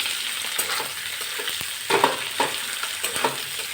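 Chopped onions with a bay leaf and whole cumin seeds fry in hot oil in a pan, giving a steady soft sizzle broken by occasional louder scraping stirs of the spoon, with no voices.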